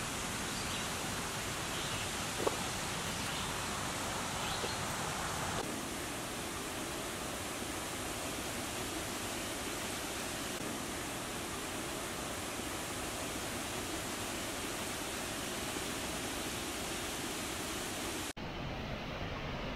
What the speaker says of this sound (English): Just a few steps away from the parking area is the lowest of the waterfalls